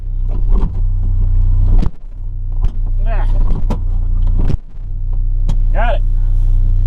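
A truck engine turns over and runs on a cold morning, a loud low rumble that cuts out briefly twice before settling into a steady idle, with someone talking over it.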